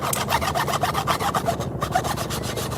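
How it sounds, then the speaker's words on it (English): A rasp works quickly back and forth along the edges of a wooden board, making a steady, rhythmic scraping of close, evenly spaced strokes with no talk. "I'll just file off any edges, and then I'll give it a quick rasp like that"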